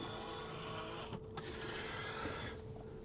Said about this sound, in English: So if I just press that one, you can see a sun blind coming down.